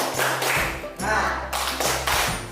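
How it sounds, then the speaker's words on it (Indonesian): Rhythmic clapping in a patterned cheer by a teacher and class in a classroom, a few short bursts of taps and claps in a set rhythm, with voices calling along. "Tepuk semangat."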